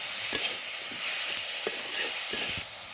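Apple pickle with sugar stirred in a pan, a steady bright sizzle broken by repeated scraping strokes of the spoon, close and with no talking.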